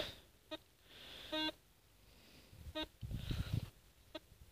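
A Solfernus v2.6 metal detector during a ground test gives short electronic beeps, a few separate tones scattered across the clip with a longer one early on, over faint outdoor rustling and handling noise.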